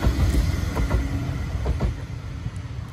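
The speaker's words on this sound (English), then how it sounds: "And here comes a tram." A Blackpool tram bound for Fleetwood Ferry rumbles past close by, a heavy low roll with wheel clicks and rattles that fade slightly toward the end.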